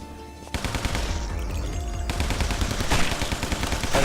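Rapid automatic gunfire in the video game Guns, Gore & Cannoli, a dense, loud, sustained burst of shots that kicks in after a quieter opening and rattles on continuously.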